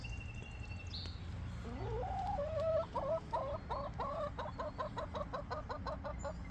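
A backyard hen clucks close by in a rising run of rapid, repeated clucks, with other chickens faint in the background of a quiet coop.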